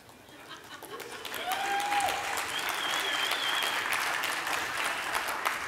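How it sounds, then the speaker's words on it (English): Audience applause at a panel discussion, building from scattered claps into steady, sustained clapping from a crowd that continues evenly to the end. "Are you clapping because I got that right?"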